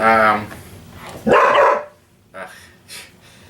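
A new puppy barks and yips while harassing a cat indoors, a few close, loud barks in quick succession followed by softer whimpering yips; a person talks over part of it.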